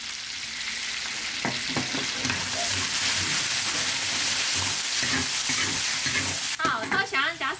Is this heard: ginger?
yes